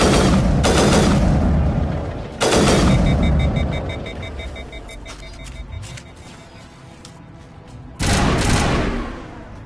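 Sniper rifle shots in Mass Effect boom out loudly in three separate bursts, each a sharp blast with a long fading tail, separated by quieter stretches of battle ambience.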